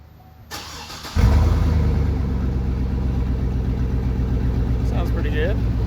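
A Chevrolet Trailblazer SS with its muffler removed cranks briefly, then fires with a sudden jump in loudness and settles into a deep, steady, rumbling idle close by.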